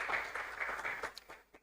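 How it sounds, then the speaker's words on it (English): Faint applause from the audience at a CEO roundtable event on interior design, heard at a distance and quickly thinning to a few scattered claps before dying away. "a round of applause for her."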